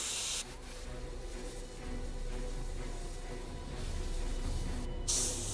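An airbrush sprays a weak mix of transparent black paint, a continuous soft hiss of air lasting throughout, with brief changes in pressure as the trigger is worked.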